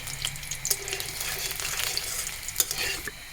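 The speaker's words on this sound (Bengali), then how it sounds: "এখন আরেকটু তেল দিয়ে দিব আমার আম্মু এখন আমি দিয়ে দিব রসুন রসুনটা আমি একটু ভেজে নেব" Garlic frying in oil in a pan for soup noodles, giving a steady, close, hissing sizzle with small crackles and occasional louder spits throughout, with no voices.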